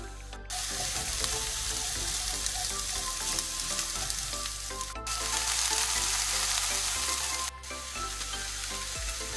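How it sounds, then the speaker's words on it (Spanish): Chopped onion frying in a little oil for a sofrito: a loud, continuous close-up sizzle that fills the whole stretch, broken by a couple of brief cuts, with no voices. "Primero echamos la cebolla. Hay que freírlo 2 o 3 minutos"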